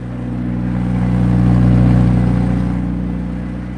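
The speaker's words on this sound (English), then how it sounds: "So as you can hear, the car is already started" A McLaren Senna engine runs steadily, a loud low mid-pitched hum with a gentle swell in the middle and no talk over it.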